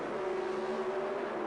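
Bob Glidden's Pro Stock drag racing car at the 1977 NHRA World Finals, Ontario Motor Speedway, a steady loud engine roar with a strong sustained tone, heard briefly on its own.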